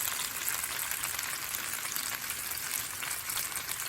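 Potatoes frying in a pan as they are stirred, a steady broad sizzle and crackle that holds evenly throughout at moderate loudness, with no talking.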